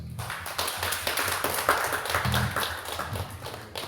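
A church congregation claps during a Sunday afternoon worship service; a few seconds of dense, rhythmic hand claps fill the sanctuary, with a low tone humming underneath.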